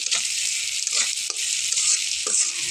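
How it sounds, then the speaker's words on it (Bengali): Prawns fry in a pan with a loud, dense, continuous sizzle, broken by occasional soft stirring bumps and scrapes. "মাছগুলো আমি ভালো করে ভেজে নিচ্ছি"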